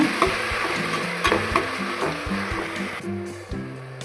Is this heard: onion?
yes